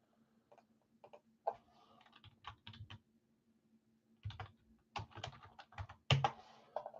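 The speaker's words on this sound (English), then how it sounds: "See what I'm typing." Typing on a computer keyboard in bursts of rapid key clicks separated by pauses, fairly close and moderately quiet, with no talking over it.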